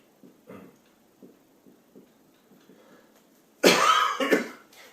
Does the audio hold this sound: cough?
yes